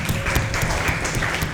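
A seated group at a celebration gathering gives a quick round of applause, a brief burst of dense, close clapping at a steady level.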